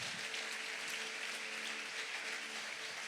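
A church congregation claps in a dense, even wash of applause that holds steady throughout, with a faint sustained tone underneath and no voices.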